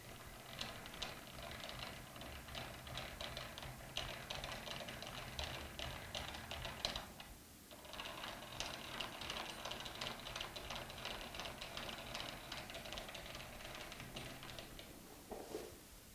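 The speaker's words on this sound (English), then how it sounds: "The X axis is also known as the cross slide and consists of a dovetailed platform moving front to back across the saddle of the lathe" Dense, continuous mechanical clicking and ratcheting of a lathe's dovetailed cross slide being cranked front to back across the saddle, steady and fairly close, with a brief lull midway and no talk.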